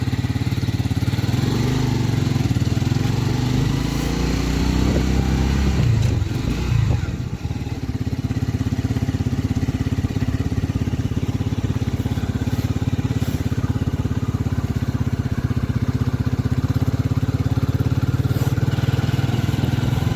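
A Lifan Lion 125cc motorcycle engine thrums steadily while riding, loud and close, with a brief dip and change in pitch partway through before settling back into a constant drone; no talking.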